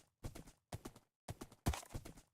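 Horse hooves clip-clopping in a video game, four quick clusters of hoof strikes in an uneven gait, close and fairly quiet, heard alone.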